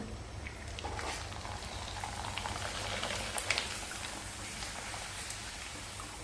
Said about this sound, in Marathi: तेल आता चांगलं गरम झालेलं आहे. आपण पापड घालूया.